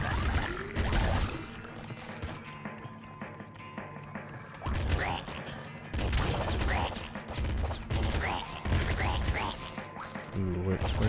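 Rapid bursts of gunfire from the twin-stick shooter Nuclear Throne, with repeated loud shots, impacts and crashes crowding the scene alongside occasional bits of talk.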